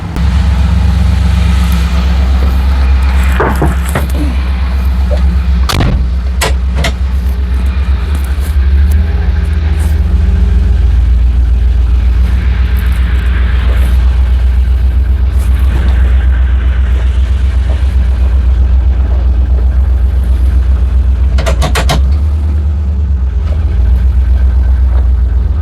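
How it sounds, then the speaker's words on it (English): LS V8-swapped 1984 Ford Bronco II idling, a steady deep low rumble held close and even for the whole stretch, with a few brief clicks and knocks on top and no talking. "overall, idling, crawling around, super quiet and smooth"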